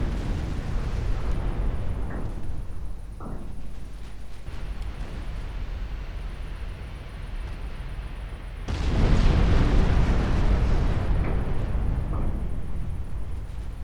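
Naval guns firing in Ultimate Admiral Dreadnoughts, deep booming blasts and rolling rumble, with a heavier salvo surging partway through over continuous battle ambience.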